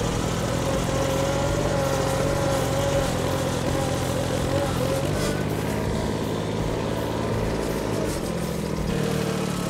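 A small micro tractor engine drones steadily and loudly as it climbs a short slope in two-wheel drive outdoors, a constant buzzing hum with no talk over it.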